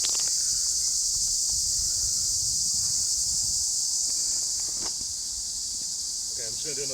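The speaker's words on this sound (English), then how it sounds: "You hear the noise from the insects around here." Insects chirp in a dense, continuous high-pitched drone at the bottom of Youth Hill in Plovdiv, Bulgaria, steady and fairly loud throughout, with faint outdoor rustle beneath and a voice at the very end.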